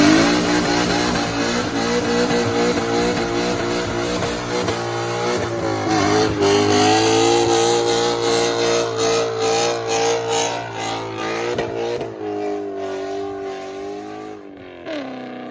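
BMW E39 M5 Touring engine revving hard during a tire burnout, loud and close, with pitch rising and falling through sustained high revs before easing off near the end.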